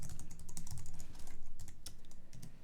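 Rapid keystrokes on a computer keyboard while writing JavaScript code for a UI5 controller, a steady close stream of clicks with brief pauses and no talking.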